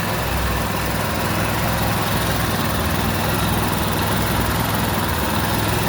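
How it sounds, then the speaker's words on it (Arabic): A scooter engine idles after its idle air screw is adjusted, a steady, loud, dense running drone that stays even across the whole stretch with no voices. "ظبطناها صلانسيه وبدات تقعد زي ما انتم شايفين معايا على الصلانسيه من مسمار الهواء"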